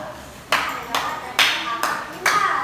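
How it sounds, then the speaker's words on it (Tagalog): Pupils in a classroom give the second group five claps: five sharp, evenly spaced unison claps, each a distinct loud burst with a short tail, with faint voices underneath. "bigyan nyo ng 5 palakpak ang ikalawang pangkat"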